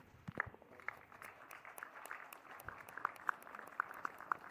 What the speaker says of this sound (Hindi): तुम तालियां बजा खड़े हो गए